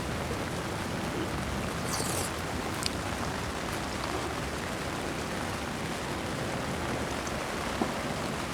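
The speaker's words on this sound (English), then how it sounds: "And I'm gonna enjoy the rain in my garden." Steady rain falls in a garden, a dense even hiss filling the whole stretch with occasional faint drips and taps, continuous and close with no voices.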